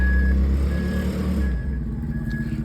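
A fork truck reverses nearby, its warning beeper sounding a steady series of clear, evenly spaced tones over a loud, continuous low engine rumble.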